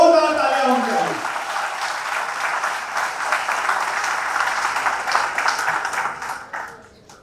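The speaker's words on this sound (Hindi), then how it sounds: "हाथ उठाकर हवा में जोरदार तालियां होंगी।" An audience at a felicitation ceremony for a Femina Miss India 2020 runner-up breaks into loud, sustained applause that fills the hall, with a voice briefly heard at the start before the clapping fades out.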